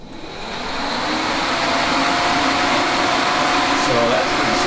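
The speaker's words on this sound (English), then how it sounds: "Imagine my surprise when I plugged it into keyed ignition power and the fans just started working" Electric cooling fans on an El Camino running on keyed ignition power, a steady whooshing whir that ramps up in the first half second and then holds even and close.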